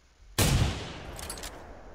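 A single .50 caliber rifle shot fires in the hunting game theHunter: Primal. It is a sudden, loud, close blast followed by a long rumbling tail that slowly fades.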